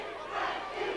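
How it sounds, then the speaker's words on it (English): Boxing arena crowd at a pro bout raising a sustained chant for a fighter, a broad roaring wash of many voices heard from a distance, steady throughout the brief moment. "Now the chant goes up from the crowd for Frankie Archuleta."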